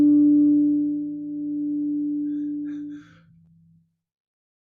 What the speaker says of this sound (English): I can bring out one of the overtones by going